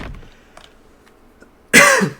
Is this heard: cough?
yes